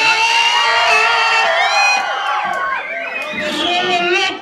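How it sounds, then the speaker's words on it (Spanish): A crowd at a live music event in El Salto shouts and whoops loudly, a dense wall of cheering voices with rising and falling yells, close and sustained. "quiero oír un pinche grito de la ¡el Salto!"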